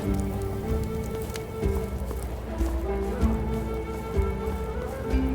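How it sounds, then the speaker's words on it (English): Rain falls in the video game Expeditions: Rome, a steady patter of drops on surfaces under a low sustained musical drone, with occasional soft thuds and no speech. "It's been rather rainy recently, true. At least the rain drives the mosquitoes away."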